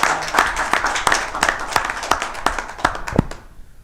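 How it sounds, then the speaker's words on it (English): A small group claps at a town council meeting, sparse distinct hand claps in an uneven rhythm that taper off and stop near the end, with faint voices in the room. "One last round of applause for Maxine"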